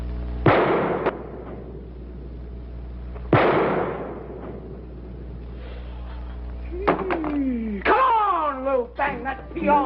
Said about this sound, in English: Now lift up that pistol and shoot.